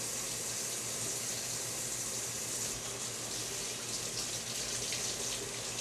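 A sink tap runs steadily during cleaning, a continuous close hiss of flowing water with no voices over it.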